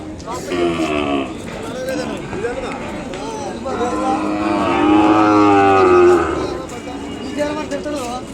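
Young calves at a weekly cattle market in Kodad, lowing loudly and drawn-out near the microphone, several overlapping moos rising toward the end amid market bustle.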